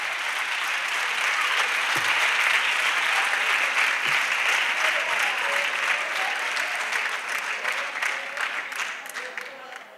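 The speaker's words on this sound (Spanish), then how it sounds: "¿Podéis aplaudir?" An audience at a Cáritas Conil carnival festival applauds in a loud, continuous wash of clapping with a few faint voices mixed in, the applause thinning slightly in the final seconds.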